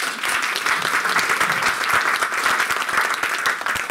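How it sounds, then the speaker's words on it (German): Applause from an audience at a talk event, a dense, continuous patter of many hands clapping at fairly close range with no voices over it. "Auch mal hier bitte einen kleinen Applaus."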